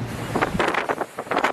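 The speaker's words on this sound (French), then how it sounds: "Il y a toujours énormément de vent." Strong wind buffets a microphone outdoors on La Réunion after Cyclone Belal, a rough, gusting roar surging in broad bursts with no speech.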